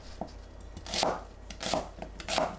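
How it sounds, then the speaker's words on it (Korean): A knife roughly chops apple and onion on a board in a few uneven bursts of quick, crisp strikes, close by with no talking. "사과와 양파를 믹서에 갈기 좋은 크기로 대충 썰어주세요"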